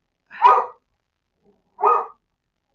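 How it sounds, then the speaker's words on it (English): Dogs at a house bark at someone walking past: two clear, separate bursts about a second and a half apart, with another starting at the end, fairly close and loud, no talk. "Lee Hamilton, somebody walked by our house, and so the dogs are letting me know."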